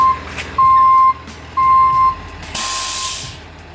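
A tow truck unloading a car sounds loud reversing beeps in three long tones, followed by a sharp burst of air hiss from its brakes or hydraulics.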